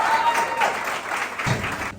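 Audience clapping at a BIOSA Day university gathering at the University of Africa, Toru-Orua, welcoming Professor Elijah Ohimain. Steady, dense applause fills the room for the full two seconds without a break.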